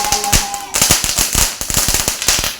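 A Diwali firecracker set inside a container bursts in a string of loud, close cracks and pops at an uneven rapid rhythm, repeating throughout with short gaps between bursts.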